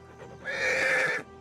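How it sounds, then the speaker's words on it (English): A horse in the Total War: Attila Lord of the Rings mod gives one loud, close, drawn-out neigh of nearly a second, with faint hoof clip-clop around it. "the wolf making horse noises?"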